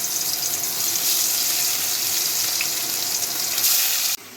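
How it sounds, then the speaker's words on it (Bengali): Bhola fish frying in hot oil gives a steady, loud, close sizzle that hisses on without a break, then drops off abruptly near the end. "আমি ভোলা মাছগুলো ফ্রাই করছি"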